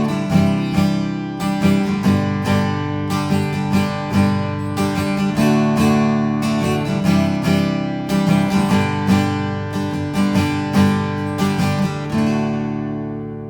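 Acoustic guitar strums a three-chord pattern in a steady down-down-up-down-up rhythm, bright and close, ringing continuously with no talking.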